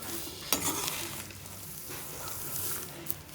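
Salted peanuts roast in a pan on a gas stove while being stirred, giving a soft, steady rattling scrape with a sharper clack or two, heard close and alone.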